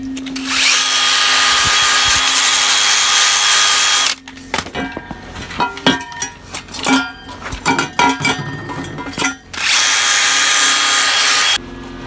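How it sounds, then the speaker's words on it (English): A power wire brush cleaning a fresh weld on a 45-degree pipe elbow fitting, a loud steady whirring grind at the start and end with irregular clattering and scraping in between. "So I guess you gotta clean it off with the wire brush"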